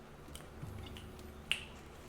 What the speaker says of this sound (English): I would just walk around just like snapping my fingers.